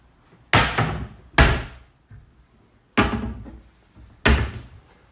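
Cupboard doors in a rental property's storage area are shut four times, each a sharp close thud with a short ringing decay, separated by quiet gaps.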